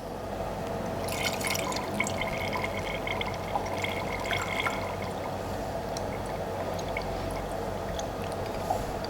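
Dilute sulfuric acid poured from a beaker through a funnel into a lab flask: a faint, continuous trickle with light glassy dripping, close and quiet, with no talk.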